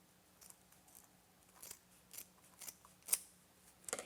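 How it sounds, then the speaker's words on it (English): Scissors snip through mesh wreath ribbon being cut from its roll, a series of close, crisp cuts with short pauses between them, ending in a quicker flurry of snips in a quiet room. "we'll cut that mesh off from the roll, leaving a tail about 6 inches or so"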